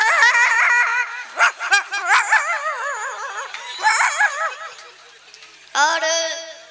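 A man vocally imitates dogs fighting, with a rapid string of close yips, warbling whines and snarling yelps that rise and fall over several seconds, ending in a sharp cry.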